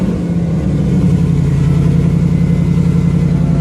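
A 1999 Camaro SS with an LS1 V8 running with its open header dump cut-out, a loud, close, rough idle with a steady throbbing pulse after a brief rise at the start, uninterrupted by talk.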